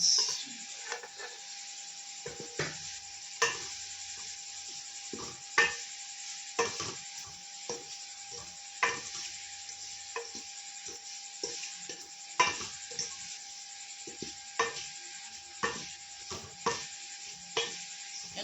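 Semolina being stirred and roasted in a pan for suji halwa, a soft continuous sizzle broken by regular scraping strokes of a spoon, steady and close with no talking.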